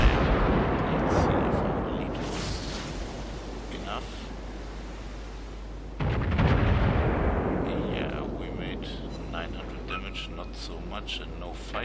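Naval cruiser guns from a Tier 8 US New Orleans cruiser in World of Warships fire a salvo, heavy booming blasts with a second burst midway, under a broad rumbling noise bed with faint talk.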